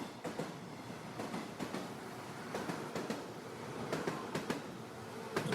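Train arriving at a station with a continuous rolling rumble, faint rhythmic clickety-clack of wheels over rail joints and occasional soft squeals, heard at a distance and fairly quiet.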